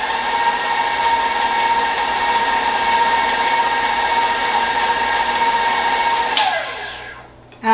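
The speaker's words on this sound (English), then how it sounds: "Turn that back on, give that a little mix." Electric mixer beating cake batter with butter, cream cheese and vanilla extract, a loud steady whirring motor hum that winds down and stops near the end.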